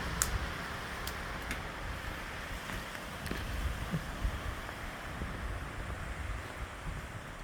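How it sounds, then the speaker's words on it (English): A steady windstorm blows through Douglas fir and western red cedar trees as a continuous broadband roar, heard alone and without gusts or pauses. "This is what a Douglas fir looks like in a steady wind."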